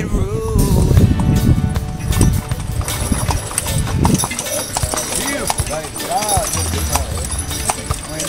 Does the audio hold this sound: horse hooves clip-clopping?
yes